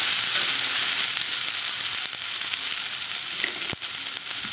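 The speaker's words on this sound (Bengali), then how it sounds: "দিয়ে বেশ মশলাটাকে বেশ একটু ভাজা ভাজা করে নেবো" Ginger, onion and chilli masala fry in a pan with a close, steady hiss and sizzle, broken by a few sharp crackles and pops near the end.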